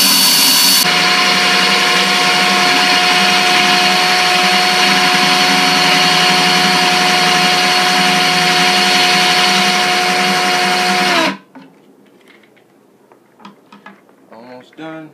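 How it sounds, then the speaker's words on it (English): A power drill whines loudly and steadily for about eleven seconds, its bit grinding into a glass tank, then cuts off, leaving faint clicks and handling noises. "You can just put the bit right back into the circle and drill away."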